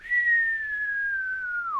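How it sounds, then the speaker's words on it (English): A single long descending whistle of bombs falling in a 1985 horror film, one steady clear tone that slowly drops in pitch and bends sharply downward at the end, loud and alone. "you just hear this whistle sound"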